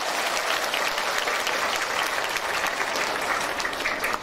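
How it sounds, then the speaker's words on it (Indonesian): An audience claps steadily and fairly loudly throughout, a continuous dense patter of hands at a religious talk by an Indonesian female preacher. "Tepuk tangan dulu dong."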